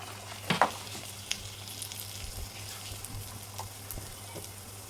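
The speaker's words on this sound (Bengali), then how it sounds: "এই যে ফুলগুলো এরকম ডুবিয়ে আর দিয়ে দেবো এই তেলে" Bok flower fritters fry in hot oil reused from cooking potatoes, giving a steady close sizzle with a few sharp crackles and stirring clatters early on, with no talking.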